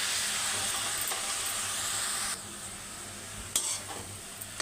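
Tomato fries in a pan with amaranth leaves and chana dal, giving a steady close sizzle that drops quieter halfway through, with a few brief stirring scrapes near the end.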